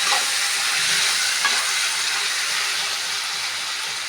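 Onions sizzle steadily in hot oil in a pan while being stirred and mixed, cooking for a chicken roast; a close, continuous hiss with no talking.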